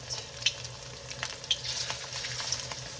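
Chicken sizzles and crackles steadily as it fries in a hot pan, close by, with occasional sharper pops over the constant frying hiss.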